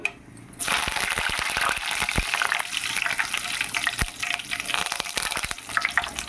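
Curry leaves dropped into hot oil burst into a sudden loud crackling sizzle after a brief quiet moment, then keep spitting and popping steadily up close with sharp intermittent crackles.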